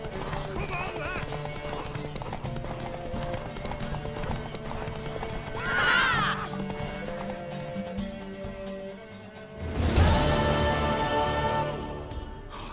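In The Witcher 3, a mare gallops during a horse race, with rapid rhythmic hoofbeats throughout and a couple of loud whinnies or snorts partway through. Voices talk over the hoofbeats.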